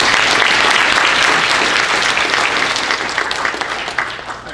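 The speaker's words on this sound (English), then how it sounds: "How about a big round of applause?" A large audience applauds loudly, dense clapping that holds steady and then begins to thin out toward the end.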